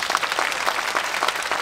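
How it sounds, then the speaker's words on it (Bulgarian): A crowd bursts into brief, lively applause at a Michael Jackson tribute event in Plovdiv, with dense clapping held at an even level throughout. "Бурни аплодисменти."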